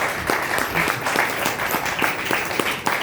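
A seminar audience claps loudly and continuously, a thick, sustained roar of many hands with a few individual sharper claps standing out.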